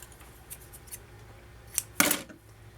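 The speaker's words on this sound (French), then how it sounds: "Je vais en couper un morceau." Scissors snip through a piece of crochet thread on a quiet table, with a few faint clicks followed by one crisp, close cut.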